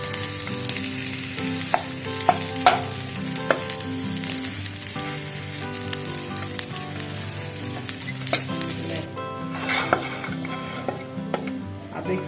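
Half a kilo of potatoes sizzles steadily in hot oil while a spoon stirs them, scraping and knocking against the pan now and then, the frying hiss loud and close throughout.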